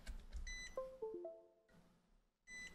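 Electronic beeps from a Hota Hobbymate D6 Duo Pro charger in firmware update mode, a few short tones followed by a descending series of pitched beeps, then a pause and another steady beep near the end. No talking.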